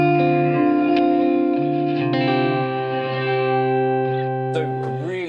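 Electric guitar played through a Line 6 Helix modeler with a non-linear reverb effect, sustained chords and notes blooming with a dense, shimmering wash that holds steady and loud throughout, ending with a few brighter plucked notes.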